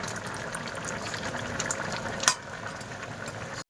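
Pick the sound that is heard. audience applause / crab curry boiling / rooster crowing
crab curry boiling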